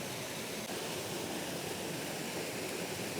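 A small woodland waterfall flows among trees in the Wood of Cree, making a steady, unbroken rushing hiss of water at close range with no voices.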